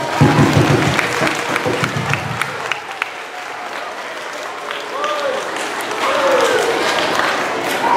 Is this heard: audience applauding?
yes